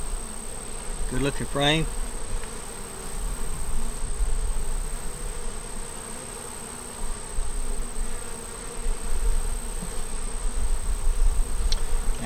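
Honeybees buzz steadily around an open hive during a frame inspection after a swarm, a dense insect hum close by, with a brief spoken comment.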